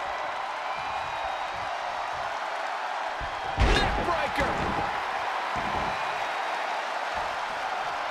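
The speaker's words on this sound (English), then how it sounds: "the crowd is loving Sasha's act" Video-game crowd from WWE 2K20 during a SmackDown tag match, a steady roar of cheering throughout with a brief louder surge and impacts midway, under a commentator's voice.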